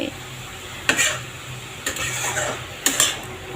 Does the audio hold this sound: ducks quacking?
no